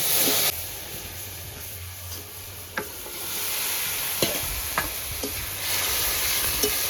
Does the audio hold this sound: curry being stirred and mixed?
yes